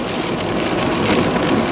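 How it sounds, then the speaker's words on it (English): Steady heavy rain pounds on a car while driving along a coastal road in Oregon, a dense continuous hiss and patter close around the cabin, with no talking. "This rain really plays tricks on me."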